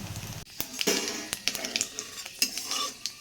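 Fried soybean chunks are stirred in a pan with a metal utensil: quick irregular clinks and scrapes over a soft background sizzle, close and fairly quiet.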